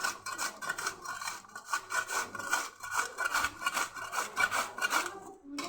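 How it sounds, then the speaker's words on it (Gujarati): Potatoes rubbed against a coarse hand grater make quick, rhythmic rasping strokes, a steady scratchy back-and-forth that continues close and fairly quiet without pause. "બટેકાને મોટી છીણવાળી ખમણી હોય એમાં ખમણી લેવાનું છે"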